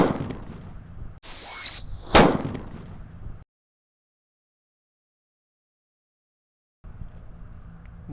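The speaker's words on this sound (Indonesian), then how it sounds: "Kalau ini mercon buntelan kertas yang Happy Power 3 guys, yang warna biru." A blue paper-wrapped Happy Power 3 firecracker goes off outdoors: a shrill whistling squeal rises for under a second, then one loud, sharp bang, with faint background noise before and after and a stretch of near silence.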